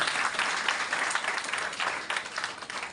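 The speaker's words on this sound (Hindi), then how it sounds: "एक बार अपने लिए जोरदार ताली बजाइए।" Sustained applause from a sizable audience, dense steady clapping with no voices, filling the whole stretch at an even, fairly loud level.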